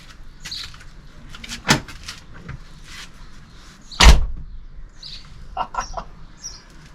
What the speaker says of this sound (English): Let's check that the door's closed.